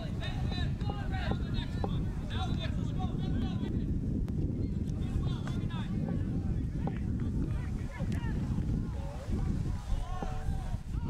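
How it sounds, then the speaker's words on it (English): Gusting wind buffets the microphone at an outdoor U-16/17 youth soccer match, a constant low roar under a commentator's talk with faint field sounds in the background. "The wind starting to gust a little bit more"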